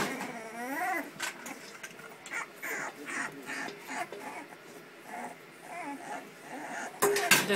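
Three-week-old puppies whimpering and yipping in repeated high, wavering cries, fairly faint, mixed with a person's voice talking to them and a louder clatter at the end.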